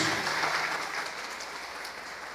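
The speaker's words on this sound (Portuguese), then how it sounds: "Vamos aplaudir o Senhor bem forte, queridos." A church congregation applauds steadily and loudly in a dense, continuous wash of clapping that stays even throughout without a break.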